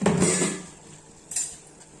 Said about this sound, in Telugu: బెల్లాన్ని వేసుకొని ఒకసారి కలుపుకుందాం